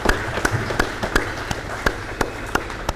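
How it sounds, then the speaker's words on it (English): Sparse, scattered hand claps from a small audience at a Kiko goat sale, roughly a dozen distinct sharp claps in an uneven rhythm over three seconds. "Let's give all of them a round of applause for bringing some great animals here today."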